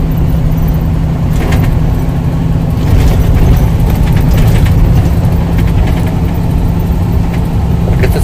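A tractor-trailer's engine drones loudly and steadily from inside the cab as the driver downshifts on the steep Grapevine downgrade, a constant low rumble with slight swells in pitch and no pauses.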